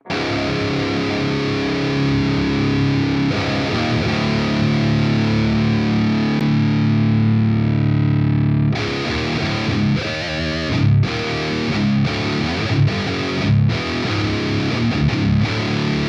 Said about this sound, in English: I'm going to stop playing guitar.